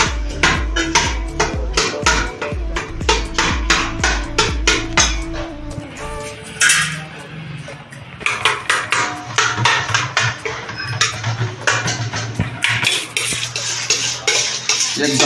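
Boiled potatoes being mixed and crushed with dabeli masala in a metal pot, with steady rhythmic scraping and clanking of a utensil against the pot, loud and close, continuing without talk.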